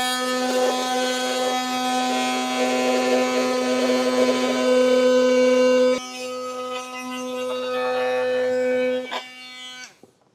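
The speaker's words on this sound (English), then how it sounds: "Now I'll come in with a multi-tool. You could also use a Dremel or something like that, but we'll just cut along these lines and cut out our rectangles." An oscillating multi-tool cuts rectangles out of a 2025 Jeep Wrangler panel, a loud, steady high-pitched buzzing drone with a brief pause before the cut resumes and then winds down at the end.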